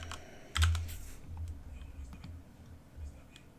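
Typing on a computer keyboard while configuring VLANs on network switches: a loud cluster of key clicks early on, then lighter, scattered taps continue close to the mic, with a faint voice in the background.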